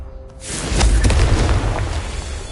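The Confringo fire spell in Hogwarts Legacy detonates with a deep, booming blast that swells after a short pause and rumbles away over about two seconds, loud and close, with no voices.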